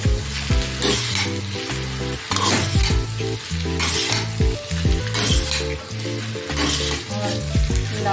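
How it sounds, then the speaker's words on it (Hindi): Veg hakka noodles stir-fried in a pan: loud, continuous sizzling with rhythmic scraping and tossing strokes of a utensil, close and busy, with background music running underneath. "अब मैं इसको प्रॉपर मिक्स करूंगी, आपको दिखाती हूँ ऐसे ऐसे ही प्रॉपर मिक्स करता है"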